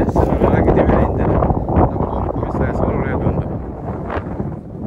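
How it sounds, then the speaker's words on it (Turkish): Strong wind buffeting the microphone outdoors on open land, a loud continuous low rumble and rush with occasional gusts, while someone speaks underneath it. "biraz rüzgar sesi geliyor size ama kusurumuza bakmayın"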